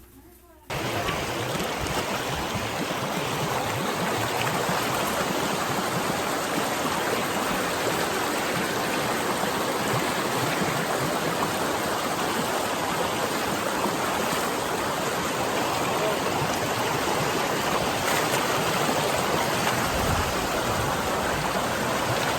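Loud, continuous rushing of a rocky jungle river flowing close by, a dense steady roar that starts abruptly and holds throughout.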